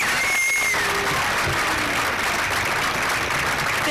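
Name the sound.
crowd applause at rally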